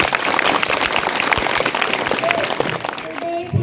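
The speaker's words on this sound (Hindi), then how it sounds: "जोर से बजाओ तालियां" Audience applause at a school Independence Day program, a steady dense clapping from a large crowd that holds loud throughout and thins slightly near the end.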